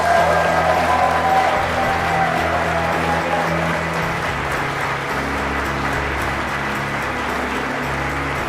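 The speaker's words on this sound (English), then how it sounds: "Let's give a spirited round of applause for McMaster University." An audience at the EcoCAR Mobility Challenge awards applauds for McMaster University, sustained even clapping under a steady background hum, loud and continuous throughout.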